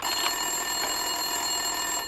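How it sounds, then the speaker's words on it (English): An office desk phone rings in Max Payne 2 inside a police station, a continuous electronic trill ringing on and off, moderately loud and alone with no one speaking. "Winterson's phone was ringing."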